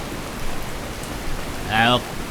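Steady rain falls on a house, heard from inside, in a soft, continuous hiss, with a brief voiced sound rising over it near the end.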